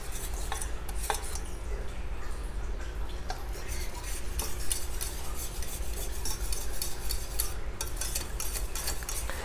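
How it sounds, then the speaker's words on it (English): A whisk scrapes and stirs a thickening Alfredo sauce for Cajun shrimp in a pan, a soft steady rasping and clinking with a low background hum, no talking. "we're going to continue to whisk it until it gets thicker."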